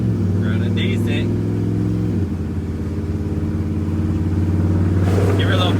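A HEMI-swapped second-generation Dodge Ram 1500 SST pickup truck engine rumbles loud and close with a deep steady idle and brief revs, while voices speak faintly over it.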